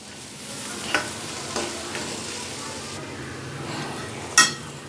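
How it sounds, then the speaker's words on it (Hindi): Mustard greens for Punjabi sarson ka saag sauté in a pan, a steady soft sizzle under repeated stirring scrapes, with a few utensil clinks against the pan and a sharper knock near the end. "अब इसमें हम साग डाल देते हैं।"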